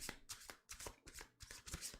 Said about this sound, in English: We'll give it one regular shuffle as well.